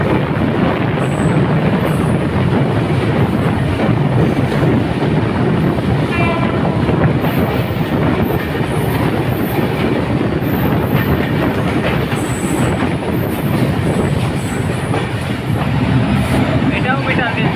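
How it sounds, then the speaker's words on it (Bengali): An intercity express train runs on a metre gauge line in Bangladesh while another train passes alongside, giving a loud, steady rumble with wheel clatter lasting throughout, heard close from onboard. "ঢুকতেই আরেকটা ট্রেনের সাথে ক্রসিং।"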